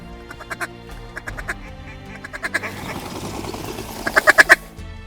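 Mallard ducks quacking in a field in big-sky country before first light, a loose run of repeated quacks building to a loud close burst of calls over a flock's background chatter.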